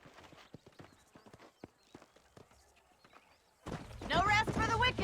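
Horse hooves clip-clop in Red Dead Redemption on Xbox 360, light and spaced out at a walking pace. A voice then speaks over a louder closing stretch.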